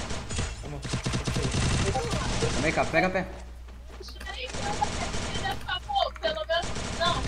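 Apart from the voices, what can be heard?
gunshots in Free Fire video game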